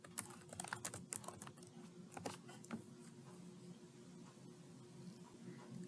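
Fast keystrokes on a computer keyboard entering search terms, a quick burst of sharp clicks early, then lighter scattered taps over a steady low hum, close and fairly quiet.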